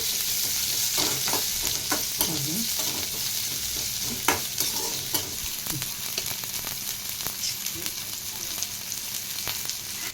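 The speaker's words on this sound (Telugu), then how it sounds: "కొంచెం కరివేపాకు, ఉల్లిపాయలు, పచ్చిమిర్చి ముక్కలు కలుపుకుందామండి" Curry leaves, cumin, onions and green chillies stir-fried in a pan, a continuous sizzle broken by repeated scraping strokes of a spoon against the metal, close and fairly even throughout, with no one speaking.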